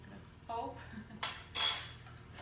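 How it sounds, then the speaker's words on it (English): A knife run around the edge of a greased brownie pan, giving two short bright metallic scraping bursts against the pan after a moment of quiet talk. "we're taking a knife, going all around, and then we're going to take a spoon"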